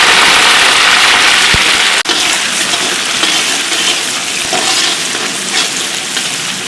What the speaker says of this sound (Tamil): வெங்காயம் நல்லா ஃப்ரை ஆயிடுச்சு.